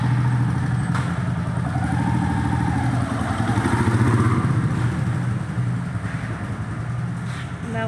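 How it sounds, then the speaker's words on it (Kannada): Motorcycle engine running, a steady clattering mid-pitched drone with some rising and falling revs as the bike is ridden, fairly close and continuous throughout. "ನಮ್ಮ ಶ್ರೇಯಸ್ ನೋಡ್ರಿ ಬೈಕ್ ತೆಗೆದು ಹಚ್ಚಿರ್ತಾನು."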